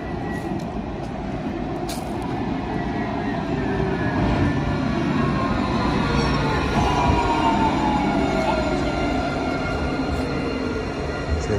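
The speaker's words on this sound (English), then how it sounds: "So this is where the tram goes, guys." A tram rolls along its street tracks, giving a steady, loud rumble and rail noise that lasts through the whole stretch with no talking.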